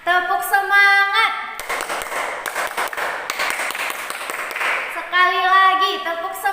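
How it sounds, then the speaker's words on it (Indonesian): A fifth-grade class does a rhythmic spirit clap led by the teacher, a run of sharp clapping beats in the middle bracketed by the teacher's voice before and after. "Ayo kita tepuk semangat."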